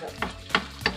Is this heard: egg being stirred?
yes